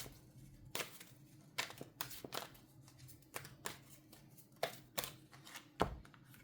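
Tarot cards are shuffled by hand in a quiet room, a series of soft, irregular riffling and tapping bursts spaced about a second apart.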